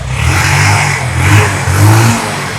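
A used motorcycle with a Dhaka Metro registration revs loudly and close by in repeated surging throttle blips over a steady engine rumble, with no talk.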